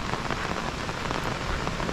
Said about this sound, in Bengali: অনেক বৃষ্টি শুরু হয়েছে